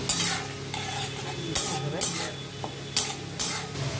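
Ginger and a bay leaf frying in hot oil in a pan, ahead of cabbage being added for a Bengali dish, with a steady close sizzle and repeated scraping stirs of a spatula every half second or so.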